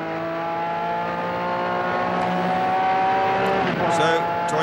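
A Honda race car is driven flat out in an endurance race, its engine holding a high, strained note. A commentator talks over it as the pitch shifts near the end.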